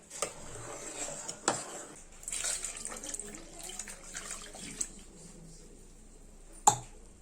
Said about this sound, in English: Here I'll be adding water to it now.